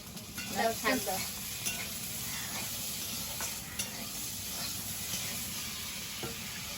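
Potato pieces frying in a pan with salt and turmeric, a steady close sizzle with a few stirring scrapes near the start.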